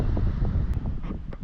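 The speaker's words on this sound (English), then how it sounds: "Well, I made it to the beach, but it's so windy." Strong wind buffets loudly and continuously at an east coast beach, with low rumbling gusts and faint higher noise suggesting surf in the distance.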